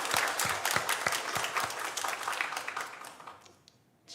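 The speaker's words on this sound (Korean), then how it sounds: "우리 박수로 환영하겠습니다" A church congregation claps to welcome a visiting missionary during a Sunday service, a dense burst of applause with sharp individual claps that fades out after about three and a half seconds.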